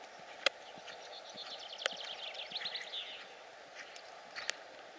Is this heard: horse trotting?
yes